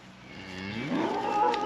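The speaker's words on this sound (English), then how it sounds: "So we got the bulls running with the heifers in here." A single drawn-out moo rises from cattle in a paddock where bulls run with heifers, fairly close and clear over quiet outdoor background.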